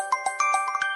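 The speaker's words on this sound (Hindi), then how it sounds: "लो पप्पा कोई फोन आया।" Mobile phone ringtone for an incoming call: a quick, tinkling run of chiming electronic notes in a bouncy rhythm, clear and alone for about a second.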